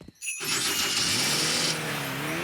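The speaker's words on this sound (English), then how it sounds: "A bit of magic always helps start the fairy car." A cartoon fairy car's engine starts up after a bit of magic: a short pause, then a sudden loud revving roar that holds steady and shifts pitch as it runs, with no talking over it.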